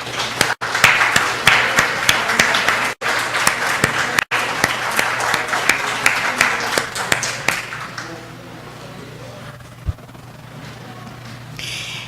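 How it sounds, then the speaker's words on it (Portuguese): An audience claps as children enter a church gathering, a dense burst of applause with a few sharp taps that thins out over the last few seconds. "Vamos bater palmas para elas?"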